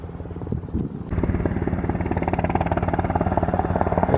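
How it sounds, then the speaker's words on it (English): A helicopter approaches over Alaskan coastal muskeg near Sitka. Its rotor throbs in a loud, even, rapid beat that starts suddenly and keeps going, close and dominant, after a few faint knocks. "I can hear the helicopter coming back."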